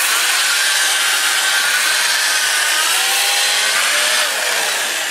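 Olive wood bowl spinning on a wood lathe at 450 RPM, a loud continuous hissing, rasping friction as an abrasive or tool works the inside surface, steady and close throughout with no talking.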